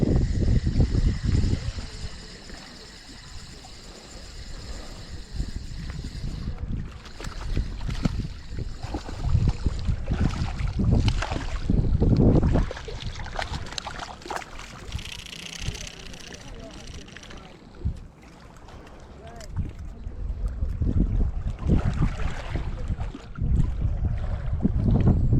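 Strong gusty wind buffeting the microphone on a boat during trout fishing, loud low rumbles rising and falling throughout, with occasional voices mixed in.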